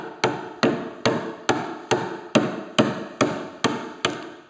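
Nine evenly spaced, sharp chopping blows of a chisel striking wood while shaping a joiner's mallet, each hit ringing briefly and fading before the next, close and alone with no talk.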